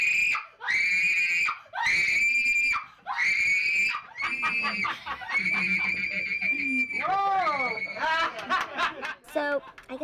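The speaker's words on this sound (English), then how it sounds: "So I guess I have a pretty shrill, loud scream" Repeated shrill, loud screams in long piercing bursts from film extras, followed by laughter and excited shrieking voices.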